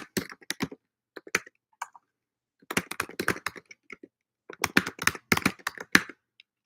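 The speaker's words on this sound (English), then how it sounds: "Let me type it here." Fingers typing on a computer keyboard in a classroom, close, crisp key clicks in quick clusters separated by short pauses, with no talk.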